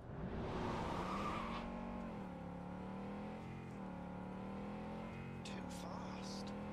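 A car drives in the video game Cyberpunk 2077, its engine droning steadily and shifting pitch as it accelerates, with a brief tire squeal near the end and voices talking over it.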